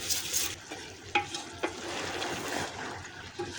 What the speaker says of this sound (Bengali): এখন আমি দিয়ে দেব চালটা